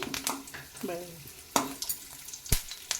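Curry leaves dropped into hot oil in a home kitchen pan for a cluster bean stir-fry, giving crackling sizzles with a few sharp utensil clicks and stirring scrapes, close and moderately loud.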